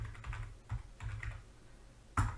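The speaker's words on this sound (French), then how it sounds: "je tape ce qui est demandé" Keys tapped on a computer keyboard while entering a search query, a short run of soft, close clicks and taps in an otherwise quiet room.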